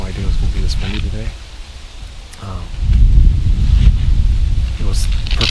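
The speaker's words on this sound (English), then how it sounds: "I had no idea it was going to be this windy today." Strong, gusty wind buffets an outdoor microphone at a Michigan deer hunt, a steady low roar that surges louder in the second half, with someone talking over parts of it.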